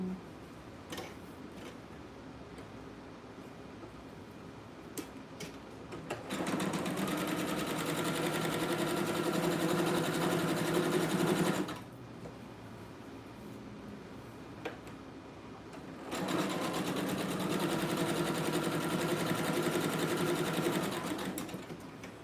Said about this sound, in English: I'm gonna run a zigzag stitch on it now